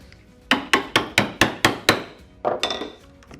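A chisel cuts a wood mortise with eight sharp, evenly spaced mallet strikes, then a pause and a few more rapid knocks, all close and loud.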